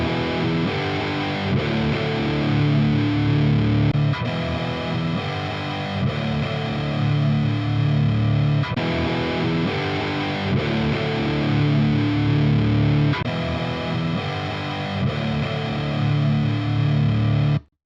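High-gain distorted electric guitar heard through an Ownhammer MPT impulse response, dense chugging riffs with palm-muted rhythmic bursts and sustained chords, loud and close throughout with no voices.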